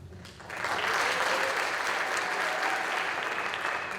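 Festival audience applauding performers at an arts event, a loud, full burst of clapping that swells quickly after a brief quieter moment and then stays strong and sustained to the end.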